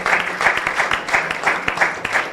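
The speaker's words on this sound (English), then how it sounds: "Please clap for them." Loud audience applause with a pulsing, almost rhythmic swell of clapping throughout.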